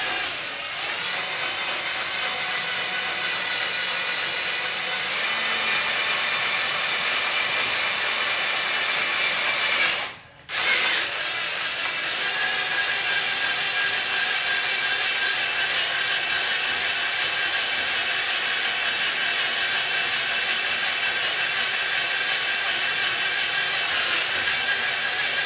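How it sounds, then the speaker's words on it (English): A power drill grinds continuously through wood of an 1865 Forster & Andrews pipe organ under restoration, loud and close, with one brief pause partway before the whining bore resumes. "all I'm doing is drilling to feel the point, and then we'll drill from the other side."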